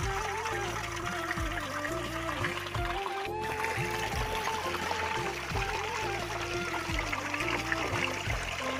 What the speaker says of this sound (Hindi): जो ये लकड़ी से पानी चल रहा है अभी भी